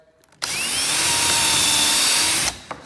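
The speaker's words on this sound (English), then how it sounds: "I'll put the point of the drill right there" A power drill bores a hole for a kitchen cabinet handle through a drilling guide at a center-punched mark: one loud, close whirring burst of about two seconds that starts and stops abruptly.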